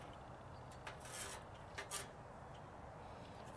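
A knife scraping fatwood kindling, a few soft rasping strokes that stand out only briefly above steady background hiss, close and faint.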